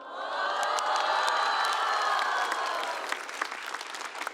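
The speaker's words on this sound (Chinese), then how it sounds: "你们大部分人会后悔这个鼓掌。" Audience at a live stand-up comedy show breaking into loud, sustained clapping with some cheering and whoops, swelling quickly and then tapering off toward the end.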